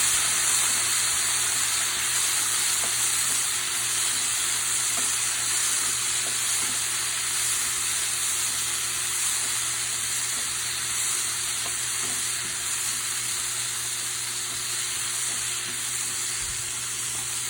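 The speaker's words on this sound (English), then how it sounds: "I will also add some lemon juice on top of it and mix this again" Snap peas dressed with lemon juice sizzle and hiss steadily in a hot pan while being stirred, with faint scraping clicks under the constant frying.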